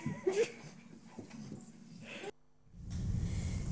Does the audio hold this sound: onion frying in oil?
no